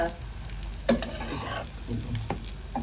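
Egg paratha made with leftover roti, with beaten egg, onion and green chili, frying in a pan on a stove turned up to brown it: a steady close sizzle with scraping stir clatters, no voices.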